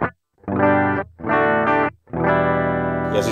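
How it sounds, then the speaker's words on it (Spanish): Electric guitar played through a Line 6 POD GO on an empty preset with no effects: three strummed chords separated by short gaps, each ringing for about a second, close and clear with no voices. "Y así suena la guitarra natural."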